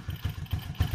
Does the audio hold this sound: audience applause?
no